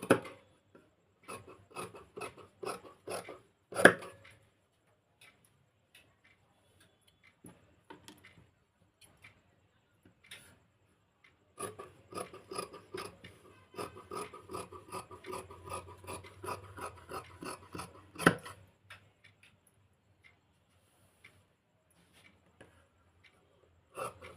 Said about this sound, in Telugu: దీన్ని తీసేసి కటింగ్ చేయాలండి